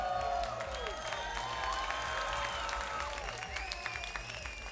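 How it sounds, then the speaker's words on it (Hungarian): A large concert audience at the Strand Festival 2021 claps and cheers loudly, with a whistle-like tone sliding at the start, the applause sustained throughout. "egy nagy tapsot szeretnék kérni"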